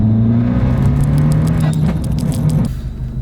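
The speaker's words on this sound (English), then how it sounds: "I just love all the sounds that are coming from this car" Tuned Abarth 595 engine and exhaust heard close up, a loud steady low drone with a slight climb in pitch, then a sharp drop in revs near the end.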